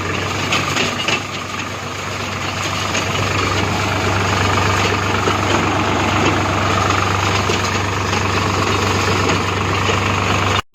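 A tractor engine runs steadily, a loud, low, continuous rumble with vibrating mechanical drone and no breaks, cutting off abruptly at the very end.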